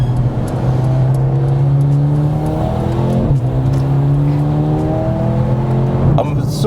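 A Mercedes A35 AMG with flood damage revs steadily up and down through its range, loud and close, the engine note rising and falling in smooth sweeps, with a brief dip midway, while checking for a misfire.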